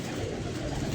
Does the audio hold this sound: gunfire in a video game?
no